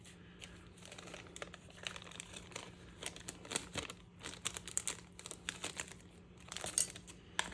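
Plastic bag of embossing paste being handled and its corner snipped off, with close, faint crinkling and rustling in irregular bursts and small clicks over a low steady hum.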